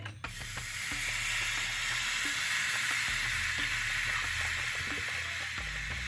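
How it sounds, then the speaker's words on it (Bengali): Milk poured into fried rice flour in a pan sets off a loud, steady hissing sizzle that swells and holds, with a few faint clinks, no voices. "চালের গুঁড়ো ভাজলাম। এবার দুধ দিয়ে দিচ্ছি।"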